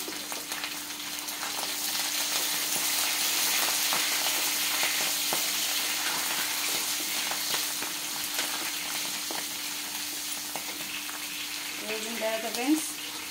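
Fenugreek leaves frying in a pan for brinjal curry, giving a steady broad sizzle with occasional stirring scrapes and a faint hum, voices briefly near the end.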